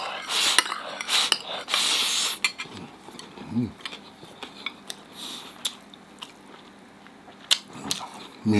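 Tough, chewy skin of a braised pork knuckle being bitten and chewed up close, with crackly crunches and clinks of bowls and cutlery, loudest in the first two seconds and then settling into softer intermittent chewing.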